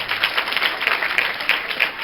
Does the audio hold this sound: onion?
no